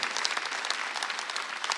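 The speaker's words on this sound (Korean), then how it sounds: "박수를 하세요." A church congregation applauds during a Sunday worship service, dense many-handed clapping that fills the room, steady and fairly loud for a short burst with no talk over it.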